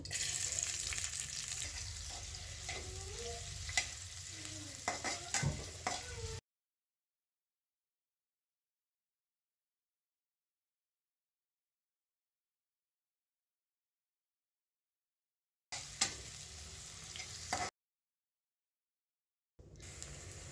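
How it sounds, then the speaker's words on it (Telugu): Chopped onion frying in oil in a pan, a faint hiss with occasional stirring scrapes, cut off by long stretches of silence. "అదే ప్యాన్లో ఆయిల్ వేసుకొని తరిగిన ఉల్లిపాయ వేసి ఫ్రై చేసుకోవాలి"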